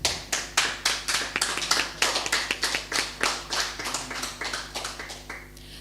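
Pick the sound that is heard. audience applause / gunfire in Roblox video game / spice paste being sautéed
audience applause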